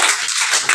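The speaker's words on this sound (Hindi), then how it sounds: "ताली मारो भाई" A classroom of students claps briefly in praise after a student answers a multiplication problem, a short burst of several hands patting close by with no speech over it.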